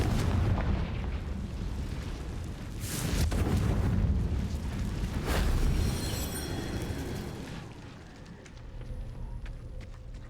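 Confringo fire-spell explosions in Hogwarts Legacy burst out as heavy rumbling booms, two big blasts rolling over a continuous roar with crackling debris trailing off.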